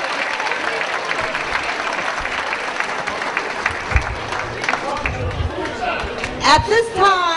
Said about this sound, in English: Let's give our singers a round of applause.